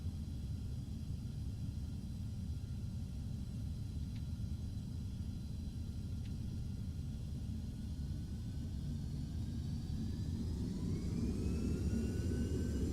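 A jet airliner in a flight simulator lands during a thunderstorm, heard as a steady low rumble of engines, with faint whining tones rising near the end, alone and without voices.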